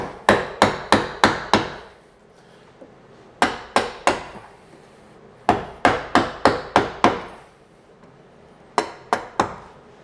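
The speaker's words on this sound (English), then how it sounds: "And I'm just going to chisel them." Sharp chisel strikes knocking the points off a wooden block for a sculptural box, in quick bursts of four or five close, loud impacts separated by short pauses, with no talking.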